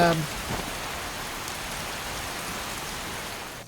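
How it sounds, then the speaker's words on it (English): Rain falls steadily in the Skyrim video game, a constant close hiss of drops that stays even and then fades out at the end, with no talk over it. "Hopefully the rain will have stopped by tomorrow."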